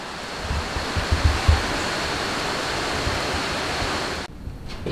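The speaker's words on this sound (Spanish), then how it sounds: "Y esta agua que sale ahí, sale en la montaña." Water flowing out of a mountainside near an old tunnel at Falan, Tolima, Colombia, makes a steady, close broadband rush, loud and constant, before dropping off abruptly near the end.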